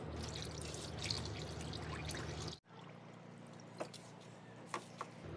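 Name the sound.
water being poured into car radiator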